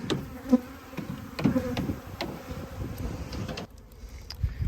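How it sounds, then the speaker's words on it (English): Hungry honey bees swarm over beekeeping equipment they are cleaning out, making a dense, close buzzing hum with occasional louder passes near the microphone. "So all these hungry bees over here cleaning out this equipment."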